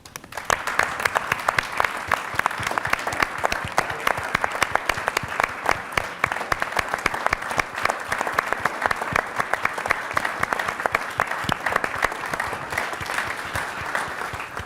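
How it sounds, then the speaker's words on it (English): A large audience at a White House event honoring American workers gives a long, sustained round of applause, loud and even throughout with many hands clapping at once and a low crowd murmur underneath. "So if you could all stand, we'd love to give you a round of applause."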